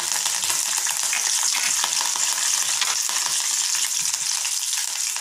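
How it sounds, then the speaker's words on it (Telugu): Curry leaves, dried red chillies and onion pieces fry in hot oil with urad dal for a ridge gourd and fresh coconut chutney, giving a steady, dense crackling sizzle close up with no talk. "ఎండుమిర్చి ఉల్లిపాయ ముక్కలు కూడా వేసి వేపుకోవాలి"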